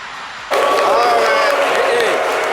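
An audience bursts into crowd noise that sounds like applause and cheering. It starts suddenly after a quiet moment and stays loud and dense, with voices mixed in.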